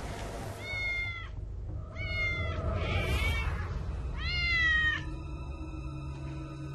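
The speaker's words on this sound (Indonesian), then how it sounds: "Tadi waktu di kamar suara kucingnya itu jelas banget." A cat meows several times in short rising-falling cries, fairly close, over a low steady background hum.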